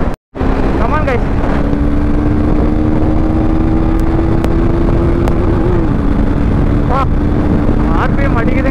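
A KTM RC390 motorcycle engine drones steadily at speed during a ride at sunset, with wind rushing over the microphone, a slight pitch shift midway and brief sharper rev bursts near the end, under a talking rider.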